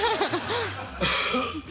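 A man imitates a shy cough with a quick run of short, throaty, half-voiced coughs, then one more after a brief pause, close and fairly loud, sounding almost like a chuckle.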